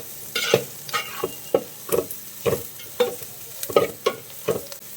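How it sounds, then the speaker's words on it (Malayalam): Onions sautéing in coconut oil for mutton kurma, a soft sizzle punctuated by about ten rhythmic scraping strokes of a spoon through the pan, steady and close. "സവാള നന്നായിട്ടൊന്ന് വാട്ടിക്കിട്ടണം."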